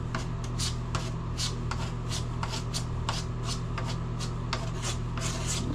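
Filler is pulled and smoothed over a crack in a bathtub with a tool, giving a repeated close scraping and rubbing in short strokes over a steady low hum.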